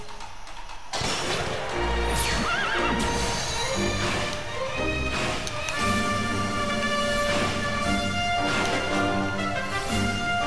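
In the video game Dragon Quest XI S, a horse gallops with continuous clip-clopping hooves and lets out loud neighs and whinnies over a busy game soundtrack.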